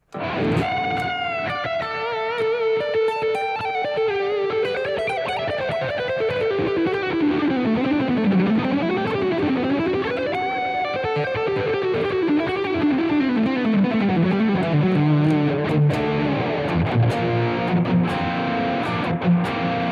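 Electric guitar played through Gearbox and Timeline effects pedals, a sustained, layered tone with sliding melodic lines and shimmering repeats, steady and continuous with no talking.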